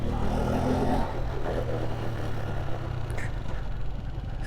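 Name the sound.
1986 Honda CG125 motorcycle engine idling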